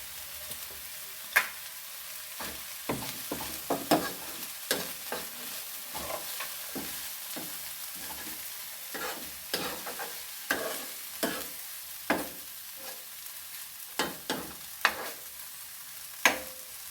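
Banana flower thoran with coconut being stirred in a hot pan, a spatula scraping and tossing in a steady irregular rhythm over a continuous low sizzle, close and fairly loud with no talking.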